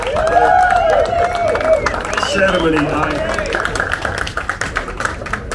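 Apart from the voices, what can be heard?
audience applause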